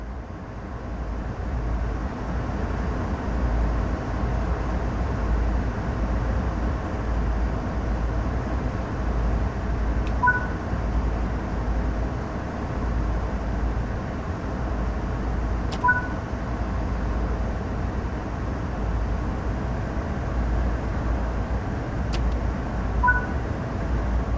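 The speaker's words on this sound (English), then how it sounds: "You'll be using GE ES44C4 locomotives hauling heavy intermodal freight" A BNSF GE ES44C4 diesel locomotive in Train Sim World 3 hauls heavy intermodal freight on Cajon Pass, giving a steady low engine rumble with a few faint, brief tonal chimes spaced through it.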